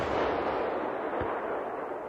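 A Swedish S-tank's fixed main cannon fires in one deep, powerful blast, its broad roar and rumble rolling away over about two seconds with no voices present.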